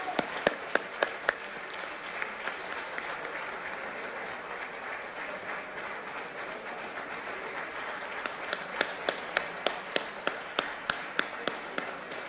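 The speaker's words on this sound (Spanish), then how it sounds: "Por favor, un fuerte aplauso para ella." An audience at a Venezuelan legislative session gives a speaker sustained applause, a dense steady patter of many hands with a few sharp, distinct claps standing out near the start and end.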